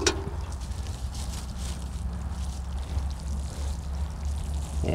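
Water pours onto soil around a layered plant branch buried outdoors, a continuous close splashing trickle under light wind noise.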